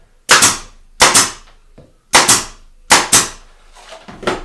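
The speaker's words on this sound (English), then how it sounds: "I'm going to fire some pins with my nail gun" Pneumatic pin nailer firing pins into two pieces of MDF in a woodworking shop, four sharp loud cracks spaced about a second apart, each with a short hiss, alone with no talk.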